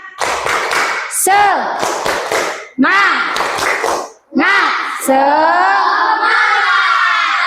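A group of Indonesian children chants a "tepuk semangat" clapping cheer in rhythm, punctuated by sharp bursts of unison clapping, loud and close, ending in a long drawn-out shout.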